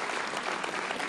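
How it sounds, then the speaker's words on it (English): Audience applause at a 2006 Paley television festival panel for Supernatural, a dense, steady wash of many hands clapping throughout, fairly loud and with no talk over it. "So round of applause for John."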